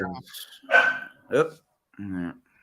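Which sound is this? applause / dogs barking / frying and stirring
dogs barking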